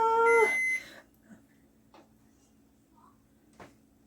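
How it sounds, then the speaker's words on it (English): A loud electronic beep opens the clip, followed by a few faint knocks and clicks in a quiet room. "You hear the 6 beeps."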